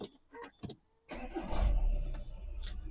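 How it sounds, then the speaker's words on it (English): An Audi Q5 with AdBlue, boost sensor and DPF faults cranks and starts up close in a workshop, a short crank after a few clicks, then a low rumbling idle settling in. "Start the car."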